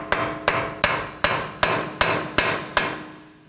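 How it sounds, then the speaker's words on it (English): A hammer strikes a center punch set against the outer face of a CV axle on a 2015–2023 Nissan Maxima 3.5L V6, ringing out eight evenly spaced sharp metallic blows, each one decaying briefly, close and loud. "I'm going to strike it using a center punch."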